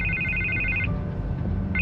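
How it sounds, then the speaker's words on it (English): An electronic telephone ring from the 2016 PC game Batman by Telltale: a steady trilling tone that stops midway and then starts again, over a low constant background hum. "I can't get the phone to stop ringing."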